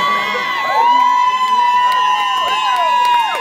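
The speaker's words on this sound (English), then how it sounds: "I love how dad bod gets more claps than anything else." An audience at a drag show claps, cheers and whoops in a dense, loud burst of crowd noise with shrill cries rising over it.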